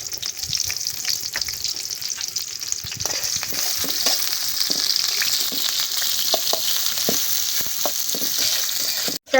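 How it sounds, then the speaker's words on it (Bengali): Onion and green chili fry in oil in a pot, a continuous close, loud sizzle with scattered crackles and occasional stirring scrapes. "পেঁয়াজটা ভাজা হয়ে গেছে ভালো করে"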